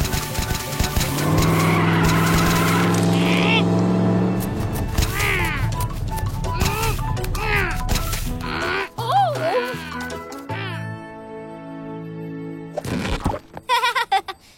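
Cartoon monster truck engine revving loudly and skidding with squealing tires, a sustained roar easing off into scattered clunks and short squeaks, with brief character voices in between.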